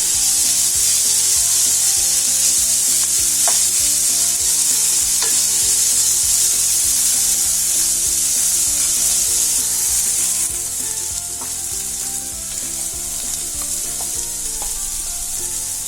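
A chicken and onion filling for homemade buns sautéed with tomato sauce in a pan, with continuous sizzling and repeated scraping and stirring strokes of a spoon against the pan, close and loud, without talk.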